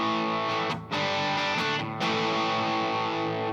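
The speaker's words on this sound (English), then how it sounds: "So the Fulltone O.C.D is a distortion pedal, and here's the difference." A heavily distorted electric guitar through a Fulltone OCD distortion pedal, controls at 12 o'clock, rings out sustained chords, briefly cut off twice, thick and loud with no voices.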